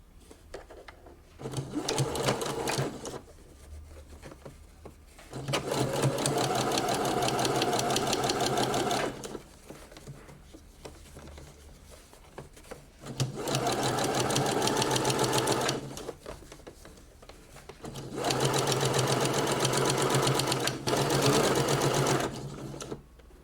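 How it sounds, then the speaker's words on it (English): A sewing machine understitches the facing of a blouse, running in four steady bursts of several seconds each, with quiet pauses between runs and no talking. "So what we want to do now is to understitch it."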